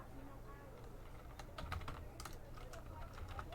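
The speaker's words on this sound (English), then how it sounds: "I can hear you typing, don't do it!" A computer keyboard is typed on in quick, light clicks that come in short bursts, faint and close, with muffled talk in the background.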